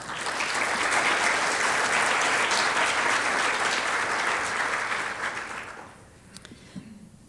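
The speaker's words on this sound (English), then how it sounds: "we owe all of you a round of applause" An audience at a leadership conference gives a sustained round of clapping, dense and steady for about five seconds before fading out, leaving a quiet room with a few stray sounds.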